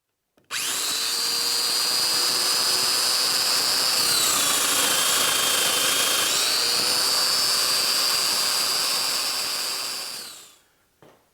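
A power tool cuts through wooden table legs, a loud continuous high whine that dips in pitch midway under load, then recovers before winding down at the end.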